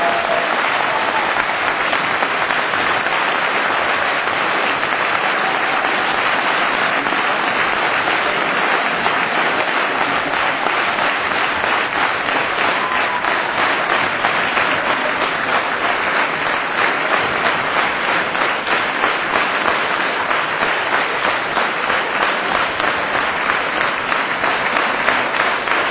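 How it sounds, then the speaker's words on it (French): A large crowd at a local political team launch applauds steadily and loudly for nearly half a minute, a dense continuous wash of clapping that never fades. "je vous propose de nous applaudir pour leur montrer notre amitié"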